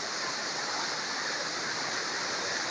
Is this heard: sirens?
no